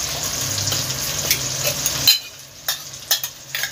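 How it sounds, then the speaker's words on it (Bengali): Dried red chillies, fennel seeds and coriander seeds frying in a pan, a steady close sizzle that cuts off abruptly partway, followed by a few light clinks and stirring taps. "এই মশলাগুলো ভেজে নিয়ে পেস্ট করে নেব। তাই এগুলো আগে ভাজা হোক"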